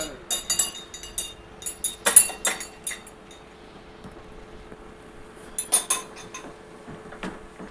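A metal spoon clinks and taps against a glass while stirring shilajit into warm water, bursts of sharp ringing clinks in quick clusters, then a pause and another short flurry, close and fairly quiet.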